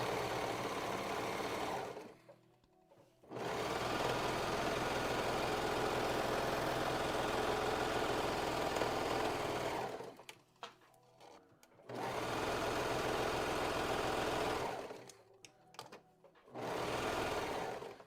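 Sewing machine stitching thick fabric for a dress, running in three long steady bursts with short pauses between, a loud continuous motor whir and rapid needle clatter, with no talking.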